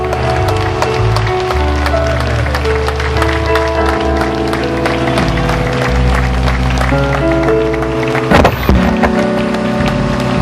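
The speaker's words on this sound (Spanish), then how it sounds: "Denle un aplauso al Señor." A church congregation applauds the Lord, steady clapping under loud sustained music with held chords filling the space throughout.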